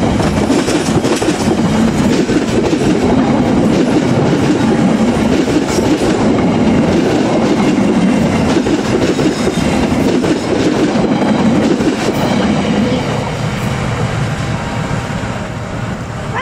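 A train on Indonesia's southern line, the Serayu or KA Cibatuan service, rumbles past at close range, with loud, steady clickety-clack of wheels over rail joints and faint wheel squeal sustained throughout.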